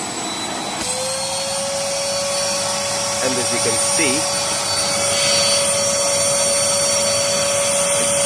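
A household vacuum cleaner sucks soaked foam carpet out of a BMW E36, giving off a steady, close, high-pitched whine with gurgling shifts as the water is drawn up. Someone talks over it.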